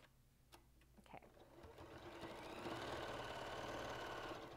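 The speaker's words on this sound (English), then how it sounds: "using a half inch seam allowance, you're going to go ahead and sew all four of those layers together." Sewing machine stitching through four fabric layers of a forage bag with a half-inch seam allowance, a few clicks giving way to a steady, close mechanical whir that holds to the end.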